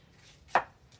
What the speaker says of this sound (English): Hey, I like the chopping motion.